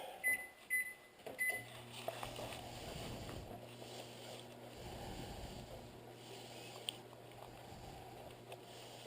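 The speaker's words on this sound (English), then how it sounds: "Let's put it in the microwave" A low, steady electric hum drones on under faint background clatter, like a microwave oven running, preceded by a few soft thumps.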